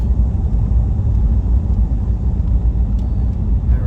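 Steady low road rumble and tire roar from inside a car cruising along a Texas highway near Rockport, continuous and fairly loud with no clear talk.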